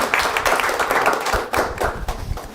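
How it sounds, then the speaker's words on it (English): Audience applause at a talk-series event: a modest group clapping close by, individual claps distinct and uneven, with no voices. "So right now I'm just going to ask that we give them a round of applause."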